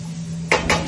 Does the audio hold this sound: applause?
no